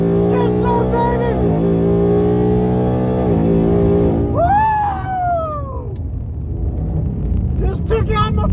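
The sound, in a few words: 2019 Mustang GT racing a Hellcat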